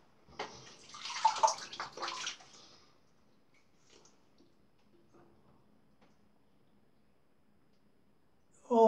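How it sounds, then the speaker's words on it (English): Running water rinses a Parker SoloEdge razor blade, a short close splashing burst from a tap. Quiet faint handling noises follow, then a brief knock at the end. "hold the handle and rinse the blade and get that nice and clean in there"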